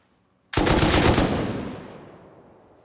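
A burst of rapid automatic gunfire from the survival game Rust, loud and close, a fast string of shots starting abruptly and trailing off into a long fading echo.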